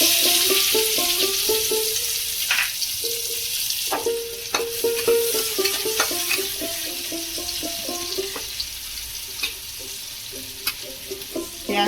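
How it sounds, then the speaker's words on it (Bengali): Onions frying in oil left over from frying eggs for a Bengali egg curry with kasuri methi, a steady sizzle running throughout with intermittent clinks and scrapes of a utensil, and a soft melodic tone pattern over it. "ডিম ভাজার তেলে আমি পেঁয়াজগুলো ভেজে নেব।"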